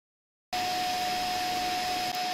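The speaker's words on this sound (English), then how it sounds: "with the vacuum cleaner on the go behind us" After a half-second of silence, a vacuum cleaner switches on and drones loudly and steadily with a high whine, close by.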